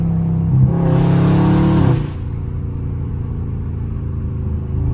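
A Dodge Scat Pack engine revs hard for about a second and a half, then drops back to a deep, rumbling idle.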